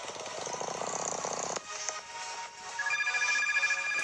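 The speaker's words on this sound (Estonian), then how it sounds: "Jälle telefon, issand jumal." A telephone rings in the Pizza Factory Tycoon video game, a loud electronic ringtone pulsing in rapid repeated bursts, then shifting to a brighter warbling tone over busy game sounds.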